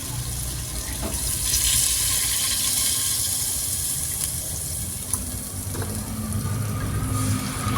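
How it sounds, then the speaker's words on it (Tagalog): Water poured from a tap or jug into a pot of Filipino chicken tomato stew, a steady, close rushing and splashing pour lasting several seconds, with no talking. "Next, lagyan ko na ng water."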